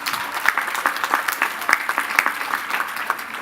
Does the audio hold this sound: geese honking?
no